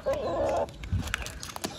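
A rooster clucks in a short burst of vocal calls near the listener, followed by scattered fainter clucks and scuffling sounds.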